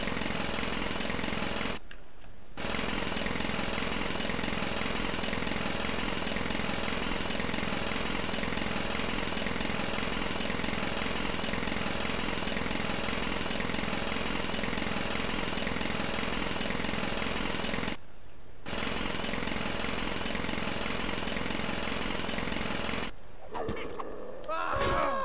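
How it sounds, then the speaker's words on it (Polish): A jackhammer drills in Lego Worlds, a loud continuous pounding roar that stops briefly twice and then breaks off near the end. "bierzemy młot pneumatyczny i się wiercimy"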